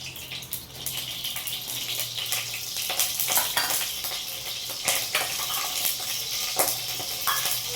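Ghee crackles and sizzles in a pan as it is tempered for sabudana kheer, a continuous bright frying hiss with scattered pops and stirring.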